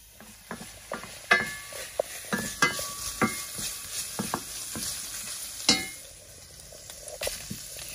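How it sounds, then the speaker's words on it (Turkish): Meat sears in a covered pan in a village kitchen, a close, steady sizzle broken by frequent sharp pops and crackles at irregular intervals, with no talking. "Şimdi etini kavrayacağım burada."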